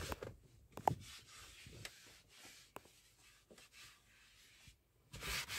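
Cloth rubbing over a car dashboard during interior cleaning, with intermittent scrubbing strokes and brief scrapes, fairly faint and close, with no one talking.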